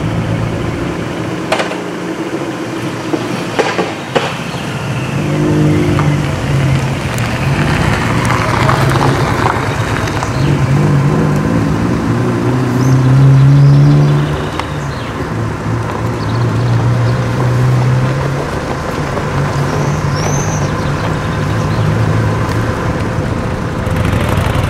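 Honda VTX 1300 motorcycle engine idling steadily close by for the whole stretch, a low continuous rumble with slight swells, while people talk over it now and then.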